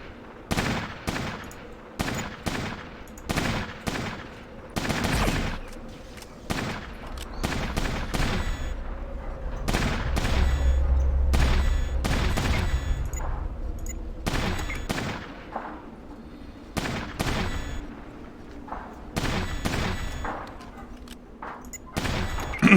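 Browning machine gun fire in the turn-based tactics game Fallout Tactics, long rattling bursts and scattered single gunshots crackling one after another, loud and close, with brief pauses between volleys and no voices.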